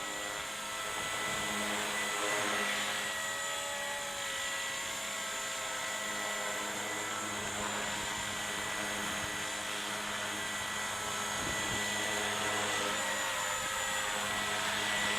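A Ken Luo 230S radio-controlled helicopter hovers and flies outdoors in a breeze. The rotor and motor whine holds steady for the whole stretch, with pitch shifting slightly and brief gusty rumbles, and no voices are heard.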